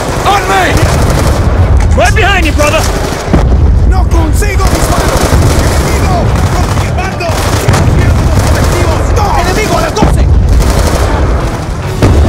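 Heavy gunfire in Call of Duty: Black Ops II combat, with sustained machine-gun bursts and booming explosions filling the whole stretch, loud and close, while soldiers shout over the din.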